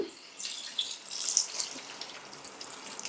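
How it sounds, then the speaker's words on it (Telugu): Water pours from a small glass into a cooking pan of green chicken curry in a short, splashing stream, fairly close, with light trickling and no voices. "ఇప్పుడు ఇందులో కొద్దిగా వాటర్ వేసుకుందాం"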